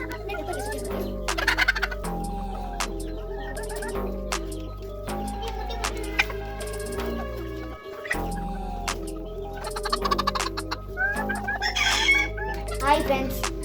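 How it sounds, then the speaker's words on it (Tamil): Chickens on a home flock cluck continuously up close while a rooster crows several times, the fowl calls layered over a steady low background hum. "நாங்கள் 4 வருஷமாக கோழி வளர்க்குறோம்."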